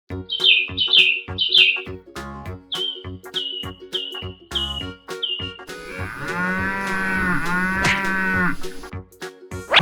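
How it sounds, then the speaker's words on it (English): Several cartoon cows moo in long, deep bellows over a backdrop of plucky cartoonish music, with high bird chirps scattered through. "The herd of cows bellow."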